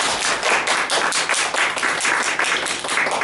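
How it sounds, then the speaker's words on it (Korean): A church congregation claps in welcome for new members, dense rapid applause from many hands filling the room, steady and loud throughout with no talk. "우리 환영의 박수 하겠습니다"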